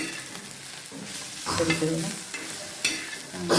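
Egg bhurji with red chili powder and onion sizzles on a hot tawa while a spatula scrapes and stirs it, producing close scraping strokes over a steady frying hiss.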